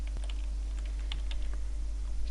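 Fingers typing rapidly on a computer keyboard, a close, brisk run of light key clicks over a steady low electrical hum.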